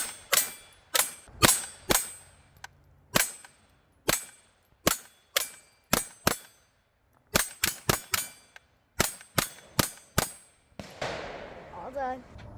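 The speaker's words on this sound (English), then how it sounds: "Now it's my turn to shoot." Sharp, loud gunshots at an outdoor shooting range crack out one after another in an uneven series of about twenty reports, each with a brief ringing decay, and a voice is heard near the end.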